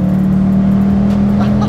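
A Ford Mustang V8 in Need for Speed Underground holds a steady, loud engine drone for a brief moment, with a slight rise in revs near the end.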